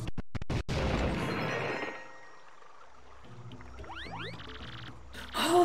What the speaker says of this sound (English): So let's hear those fireworks go boom.